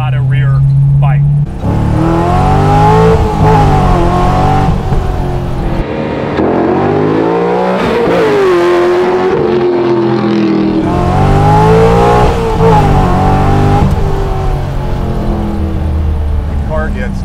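A widebody Corvette's engine roars loudly up close, pitch repeatedly climbing and dropping through gear shifts as it accelerates hard, with voices talking over it.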